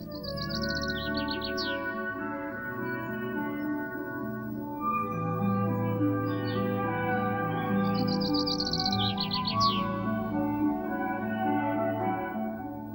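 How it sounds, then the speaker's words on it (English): Two young bullfinches calling in a garden, two separate bursts of quick high chirps a few seconds apart, close and clear over a steady low rumble. "Two more young bullfinches."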